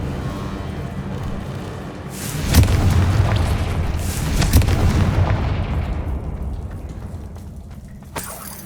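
A Confringo blasting curse explodes in the Hogwarts Legacy video game, giving two heavy booming blasts over a rumbling background, followed by a sharper crack near the end.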